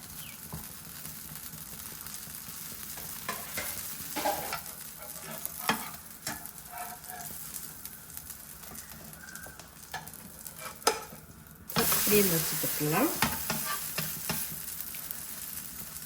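Small dosa cooking on a hot griddle as sesame oil is poured around it, a soft steady sizzle with light scraping taps, then a sudden louder burst of hissing spatter near the end.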